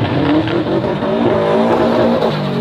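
Drag racing cars, a Honda Si and a Subaru, roar at a drag strip, with a loud, continuous engine rumble and rising revs dominating the short burst.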